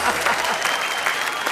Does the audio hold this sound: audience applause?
yes